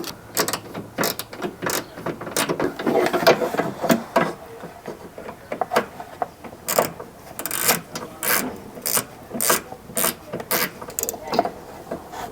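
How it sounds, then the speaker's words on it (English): A T20 Torx bit on a ratchet loosening heat sink bolts while fitting DRL modules on a BMW G80 M3: loud, close ratcheting clicks in quick bursts with short pauses, and no talking. "This is a T20 Torx bit, so we're gonna get these off."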